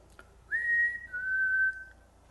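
A single person whistles one clear, sustained note that bends slightly and pauses briefly before continuing, alone in a quiet room.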